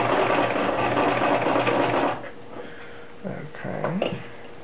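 A Brother LX-3125 sewing machine stitching along a shirt collar edge runs in a steady, close mechanical whir for about two seconds, then stops, followed by faint handling noises.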